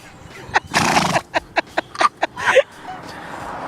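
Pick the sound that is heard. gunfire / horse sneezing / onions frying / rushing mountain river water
horse sneezing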